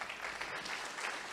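A church congregation claps together in a dense, sustained wash of applause, steady and moderately loud throughout the brief stretch with no voices standing out.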